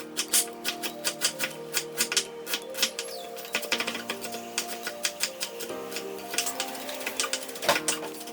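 Half a large onion being finely diced with a knife on a board, a quick series of sharp close chopping taps in a steady rhythm, with nobody talking.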